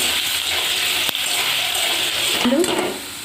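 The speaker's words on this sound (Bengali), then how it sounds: "শুকনো লঙ্কা আর গোটা গরম মশলা আলু আর গাজরটা এটাকে ভালো করে ভেজে নেবো" Potatoes and carrots fry in hot oil with dried red chillies, bay leaves and whole garam masala, giving a steady sizzle with a couple of sharp clinks from a utensil against the pan.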